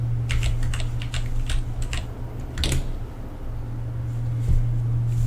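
Keys on a computer keyboard are tapped in quick, irregular clusters of sharp clicks close by, over a steady low electrical hum, then fall mostly quiet toward the end.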